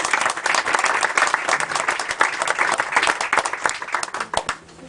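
An audience applauds at an evening gathering, dense continuous clapping from many hands that swells and then thins toward the end, close and lively.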